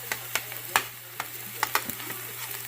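Chopped onion cooked until translucent fries in a pan for a vegan keto dish, a soft steady sizzle broken by repeated scraping stirs of the spatula at an uneven rhythm, close and fairly quiet, with no talking.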